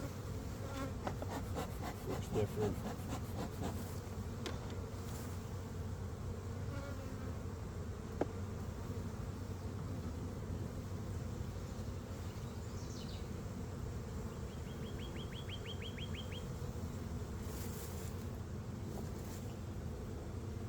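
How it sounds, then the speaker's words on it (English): A steady, dense buzz of many honey bees at the entrance of a newly installed hive fills the air continuously, with occasional individual bees droning closer past the microphone; a brief spoken remark is heard. "The bees are a little confused out front just because it's a new hive."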